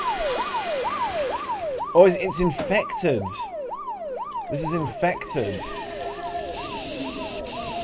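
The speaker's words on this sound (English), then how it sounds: "Police sirens?" Police sirens wail in the horror video game Fear Equation, a loud rising-and-falling tone with overlapping siren layers that stays steady throughout, while a person talks briefly over it.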